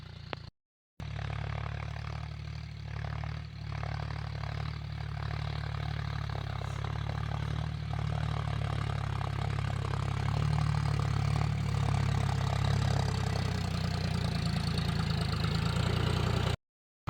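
A John Deere 5050 Gear Pro tractor's diesel engine idles steadily close by, a continuous low hum and throb that holds for about sixteen seconds, with no talking.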